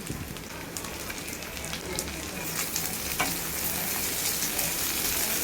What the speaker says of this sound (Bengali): প্রথমে রসুন, আদা আর পেঁয়াজটা ভালো করে ফ্রাই করে নেব, তারপর এর মধ্যে অ্যাড করবো ক্যাপসিকাম